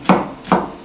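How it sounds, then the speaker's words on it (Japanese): Two crisp knife chops through leafy vegetables on a cutting board, close up and evenly spaced, with quiet in between. "葉の部分は少し大きめにねザクザクと切っていきます。"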